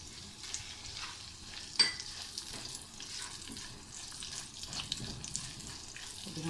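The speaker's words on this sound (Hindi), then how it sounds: "अभी हम फ्राई कर लेंगे।" Chopped onion fries in a pan with a steady low sizzle, while a spoon or spatula stirs it now and then with soft scrapes and one sharper knock.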